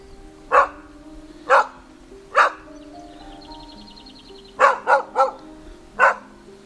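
Dogs roaming an evacuated village near Shcherbynivka, Ukraine, bark in a loose series, a few spaced single barks then a quick cluster, moderately near over a faint steady background hum.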